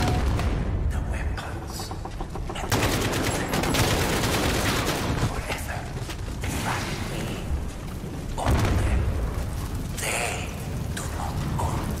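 During the Call of Duty Modern Warfare campaign, heavy close gunfire keeps up almost without a break, with grenade blasts and booms punching through the dense rattle of shots.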